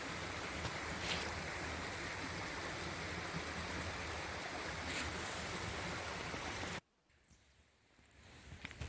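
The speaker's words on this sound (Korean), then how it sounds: "만들어놓은 거 아래로 흐르는 계곡 물소리." Valley stream water rushing below a sabo dam in a deep, wide mountain valley, a steady broadband roar of flowing water that cuts off abruptly near the end, with no talk over it.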